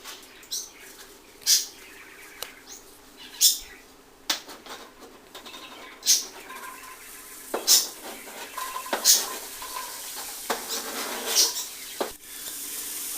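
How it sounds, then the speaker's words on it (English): Onions and carrots being stirred in a soup pot with melted butter, giving repeated soft scraping strokes at an irregular pace over a faint sizzle, fairly close. "just keep stirring until the onions are clear but not brown"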